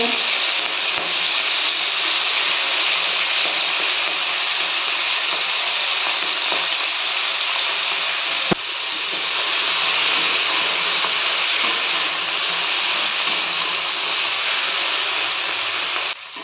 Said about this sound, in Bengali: এবার মাছগুলো আমি এই তেলের মধ্যে দিয়ে দেব